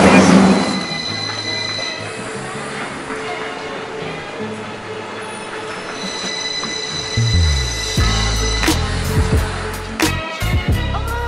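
A train from Heathrow Airport to London Paddington rumbles steadily along the rails with rising and falling mechanical tones, brief squeals and clatter growing louder toward the end.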